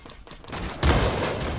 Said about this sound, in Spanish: Espérate que me disparan por detrás.